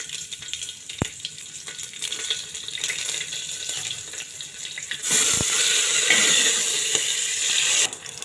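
Onions frying in a pan with mustard seeds and curry leaves for vegetable sambar, a soft hiss with occasional clicks that swells into a louder, steady sizzle partway through.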